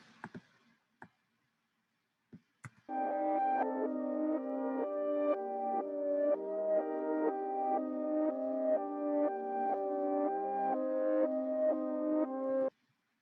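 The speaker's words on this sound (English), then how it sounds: "let's see what the keys sound like reversed" A keyboard keys track plays in reverse in a cloud beat maker: sustained chords swell up and cut off sharply in a repeating rhythm. A few sparse clicks come before the music starts.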